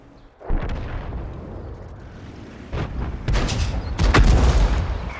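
Tank guns firing in the World of Tanks video game, with several booming shots and explosions that build in loudness toward the end, heavy and close with rumbling tails.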